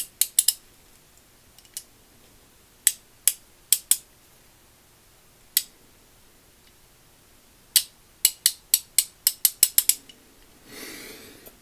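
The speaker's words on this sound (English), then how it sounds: "And this is what it looks like when it's ratcheting." Gearwrench 84-tooth 1/2-inch drive ratchet, model 81304F, clicking in crisp, sharp ticks, first sparse and irregular, then a quick run of clicks near the end, with a brief rustle after them. Nearby and quiet, no talk.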